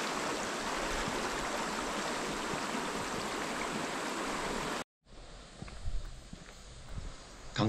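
Steady river water flowing beneath a small cement bridge for about five seconds, then a brief cut to quieter outdoor ambience with a few soft knocks and thuds.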